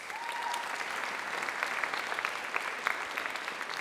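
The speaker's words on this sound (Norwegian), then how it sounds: "Gi dem en stor runde med applaus." Applause from the audience at a jazz orchestra concert in Oslo, a brief steady burst of many hands clapping with a few sharper claps standing out near the end.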